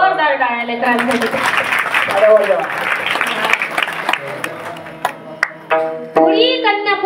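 An audience at a kirtan claps in a sustained burst of applause while a voice keeps speaking over it, the clapping thinning into scattered claps near the end.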